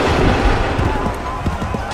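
A musket volley from Assassin's Creed 3 on PC booms in a dense burst of overlapping shots that fades into battlefield rumble, with a shouted voice mixed in.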